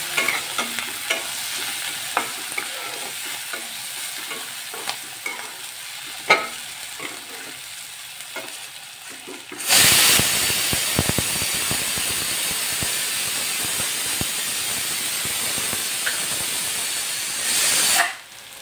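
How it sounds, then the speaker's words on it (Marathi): Onion with asafoetida and turmeric frying in a pan while being stirred: soft scraping and crackle at first, then a loud, steady sizzle that runs for several seconds and cuts off abruptly. "आपण आता हे व्यवस्थित हलवणार आहोत."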